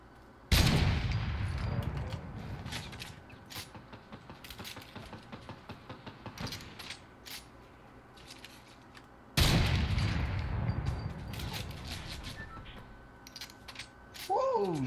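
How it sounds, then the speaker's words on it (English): Gunfire from the video game Fortnite, with a quad launcher in play: two loud, dense volleys of rapid shots, the first starting near the beginning and the second about midway, with softer intermittent firing between them and a voice talking throughout. "I'm just shooting at nothing."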